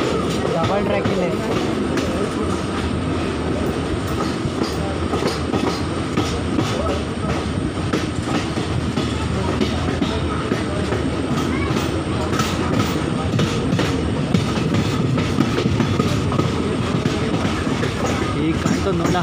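An Indian Railways train running on double track between Sakleshpura and Kukke, a loud, continuous rumble with rhythmic wheel clatter heard from inside the carriage, with voices faintly in the background.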